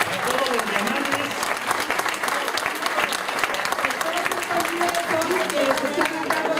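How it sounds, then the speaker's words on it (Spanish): An indoor audience at a DXN motivational event applauds the diamond-rank members in a dense, sustained wave of clapping, with voices murmuring underneath. "Un aplauso a todos los diamantes."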